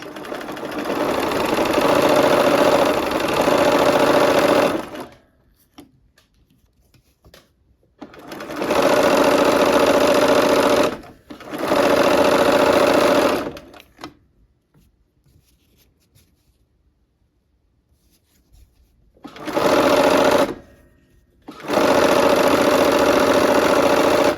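A sewing machine stitches the last seam of a quilt block for a barn quilt sampler, running in three loud, steady bursts of several seconds each, with quiet pauses between them and no talking.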